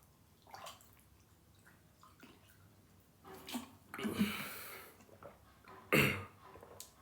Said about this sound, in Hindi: मैं पानी पी लेता हूँ